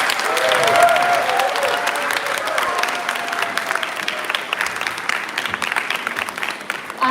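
An audience at a Bharatanatyam arangettam applauding the parents, a loud, sustained round of clapping from a large crowd that holds steady throughout and thins slightly toward the end.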